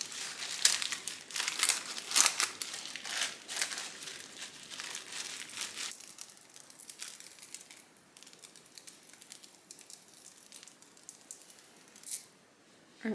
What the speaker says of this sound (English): This is just a plastic bag with butter on it so that it doesn't stick to my hand so bad.